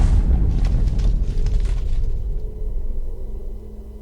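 A Minecraft explosion from an automated explosion generator rumbles loudly and low, a dense sustained roar that gradually fades over several seconds, with no talking.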